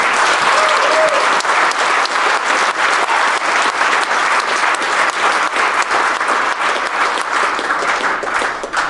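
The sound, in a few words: audience applause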